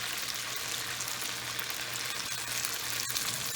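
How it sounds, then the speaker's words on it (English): Pickles coated in Hot Cheetos fry in shallow oil deep enough to nearly deep-fry, giving a close, continuous dense sizzle with a low steady hum underneath. "it's enough oil in here to where it's kind of like deep fried"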